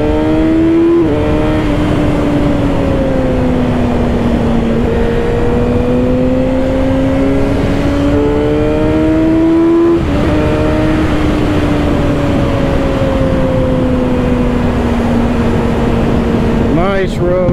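Kawasaki ZX-6R Ninja motorcycle engine droning steadily up close while riding, pitch rising and falling gently with throttle, under continuous wind rush.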